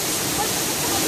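Waterfall roaring nearby, a loud dense continuous rush of falling water with no breaks, filling the whole moment.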